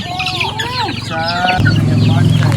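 Chickens at a hot farm in Phrae, Thailand, cluck and squawk steadily at close range while being fed, with a deep rooster-like call joining midway; the flock sounds loud and busy throughout.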